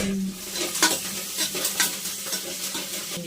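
Tomatoes sauté in a pan, a continuous sizzle broken by repeated scraping strokes of a spatula stirring them, close and moderately loud with no talk.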